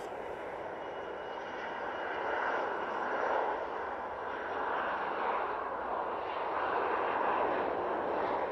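A Loganair ERJ regional jet rolls down the runway at Manchester Airport on takeoff, a moderate, distant engine roar that rises and falls in gentle swells with no talk.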